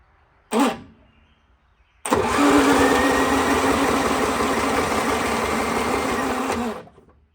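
A small lawn mower engine salvaged from scrap cranks: one short buzzing pull, a pause, then about five seconds of steady whirring cranking that stops abruptly, close and loud.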